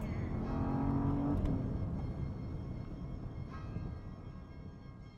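A Porsche Panamera Turbo (971) with its exhaust valves open gives a short, fairly faint rev that settles into a low, rumbling idle.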